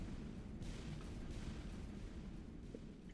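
Explosions in the game FortressCraft Evolved after the overmind dies: a low rumbling barrage of repeated booms and bursts, fairly quiet, rolling on continuously without speech.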